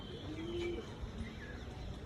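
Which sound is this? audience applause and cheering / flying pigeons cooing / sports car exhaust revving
flying pigeons cooing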